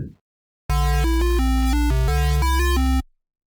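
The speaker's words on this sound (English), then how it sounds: "Change it to a square wave." A buzzy synthesizer square-wave tone steps through a short melodic sequence of notes, loud and alone, then cuts off.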